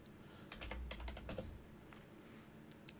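Keys clatter on a computer keyboard as a search command is typed into a Kali Linux terminal, a quick run of close, quiet clicks in a burst, then a pause and a couple of final taps.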